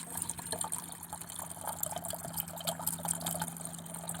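Water trickles and pours from a squeezed Sawyer Micro water filter, a soft, steady flow close by with faint drips and a low hum underneath.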